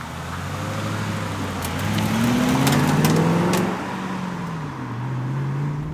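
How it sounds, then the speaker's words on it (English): An MG SV sports car engine runs, a steady low hum that swells in the middle with a brief rise in revs, then settles back, fairly quiet and unaccompanied by voices. "the first thing you notice about the MG SV when you press the completely unmarked starter button down here is just how quiet it is"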